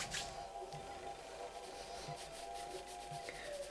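Styling product being rubbed by hand into dry hair, a soft, steady, close-up rubbing and brushing texture that stays faint and continuous throughout, with no talking.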